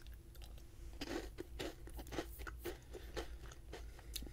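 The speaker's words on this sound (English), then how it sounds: "A nice crunchy exterior and a nice soft cream filling" Close, quiet crunching of a crunchy cream-filled snack being chewed, a series of irregular crisp bites and chews over a soft background hum, with no talking.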